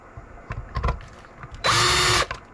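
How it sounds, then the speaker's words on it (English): A power driver set on its lowest clutch setting runs a sheetrock-type screw, first with a few short handling knocks and clicks, then one loud, steady whirring burst of about half a second, close by. "I like to use my driver to get them started."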